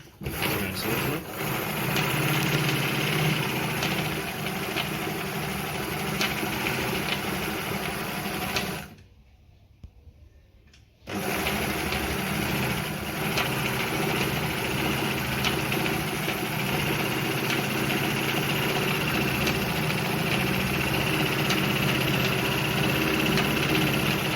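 A Jones model 461 sewing machine runs steadily as it stitches through fabric on a reduced, closer stitch length, a loud continuous mechanical whir that stops briefly for about two seconds midway before resuming.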